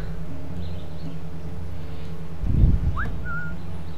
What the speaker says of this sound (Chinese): 把那个家伙吹哨引过来好